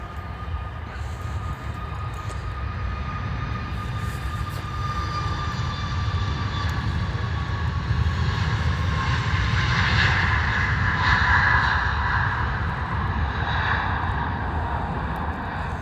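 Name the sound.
jet aircraft at Stansted Airport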